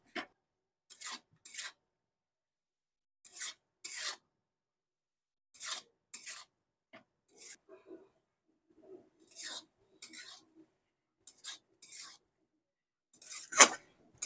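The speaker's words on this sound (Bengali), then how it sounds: "পাঁচ মিনিট আমি এভাবে নাড়াচাড়া করে নিয়েছি।" Mourala fish and spinach with salt and turmeric being stirred in a pan, heard as short, sharp scraping strokes in irregular bursts separated by quiet gaps, close by and alone.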